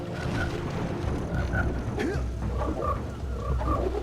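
Frogs croaking in the Boggy Swamp level of Jak and Daxter, repeated short croaks in irregular pairs over a murky, rumbling swamp ambience, no speech.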